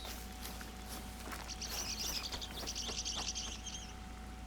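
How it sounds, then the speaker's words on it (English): Birds chirp in the hunting game theHunter: Call of the Wild, a quick run of high, trilling calls over a steady outdoor ambience, with no one talking. "Birds."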